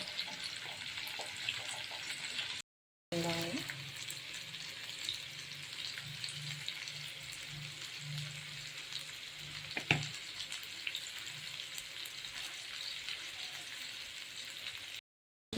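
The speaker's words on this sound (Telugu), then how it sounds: "అది ఆయిల్లో ఫ్రై చేసుకుందాం." Potatoes and onions fry in hot oil with a continuous, even sizzle and crackle, close by and moderate in level, with a brief dropout and an occasional faint clink.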